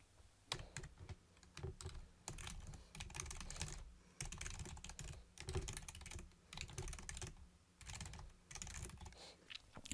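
Steady, fast typing on a computer keyboard as comments are entered into program code, with dense irregular key clicks running close and unbroken for the whole stretch, no voices.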